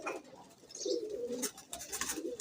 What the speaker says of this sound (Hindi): ये टेल बन टेल का कबूतर है